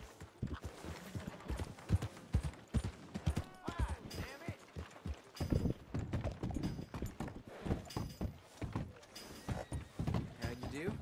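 Horse hooves clip-clop in Red Dead Redemption, a quick, uneven clatter of steps moving through town, mixed with game noise while someone talks over it.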